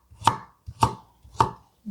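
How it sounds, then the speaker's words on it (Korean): A kitchen knife chops through young radish greens on a cutting board for kimchi, giving three crisp, evenly spaced thuds close by with no talking. "이거는 같이 가를 거니까 한 번 더 잘라줄까?"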